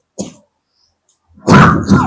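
A short, sharp cough, then a pause before a louder, rougher cough or throat-clearing burst, close and alone.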